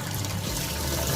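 Cold tap water runs steadily into a pot of boiled eggs, a close, continuous trickling and splashing flow with no talking.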